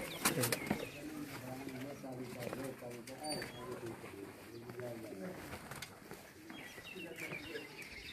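Pigeons of a high-flying championship breed from Nankana cooing in repeated soft throaty phrases, with a brief wing flap at the start, heard under continuous talk from nearby voices.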